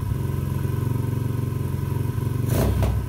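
A 125cc pit bike engine runs at a steady, close idle with an even, throbbing pulse, and a short burst of clatter near the end.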